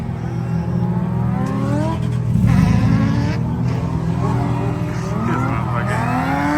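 A supercharged Honda S2000 drift car on a track day revs loud and near, its pitch sweeping up and down through repeated accelerations, with a skidding texture and voices underneath.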